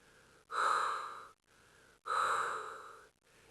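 Slow, rhythmic breathing, faint and close, with two long airy exhales separated by quiet pauses, used as an eerie effect in a dark apartment horror story.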